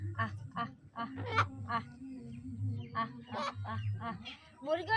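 Farm ducks and chickens honk and cackle nonstop as they gather for feeding in a village yard, a close, busy chorus of overlapping nasal calls with a low steady hum beneath.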